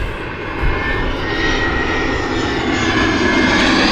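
A Norse airliner taxiing at Gatwick Airport, its jet engines giving a steady, fairly loud whine and rumble throughout, alone without talk.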